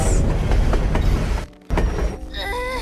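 A train runs on its tracks in the anime Link Click, a loud rumbling clatter with rhythmic wheel knocks, a sudden brief drop-out, then the rolling returns with a rising metallic squeal.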